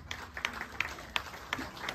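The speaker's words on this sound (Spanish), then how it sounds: "las palmas bien fuertes para ella" Scattered audience applause at a tribute concert in Stockholm honouring a charango player, a handful of distinct claps spaced through the moment, fairly faint and distant against a low room murmur.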